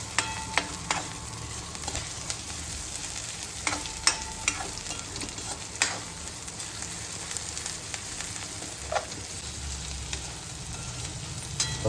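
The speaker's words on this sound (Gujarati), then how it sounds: "ત્રણેય વસ્તુને આપણે થોડીક વાર ચડવા દઈશું." Carrots and other vegetables cook in a pan for vegetable masala Maggi, a soft steady sizzle broken by sharp taps and clicks of a spoon stirring.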